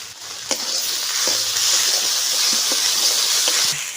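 Spices sizzling steadily in hot mustard oil with turmeric and salt, a continuous close frying hiss with faint stirring clicks and scrapes throughout.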